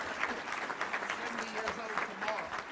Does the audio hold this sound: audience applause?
yes